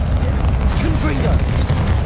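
A Confringo spell blast in Hogwarts Legacy: a loud, rumbling, booming explosion that fills the moment, with a voice calling out over the roar.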